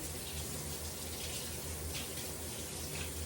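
Water runs steadily from a kitchen tap while something is rinsed off, a constant close hiss and splash with no breaks, at moderate loudness.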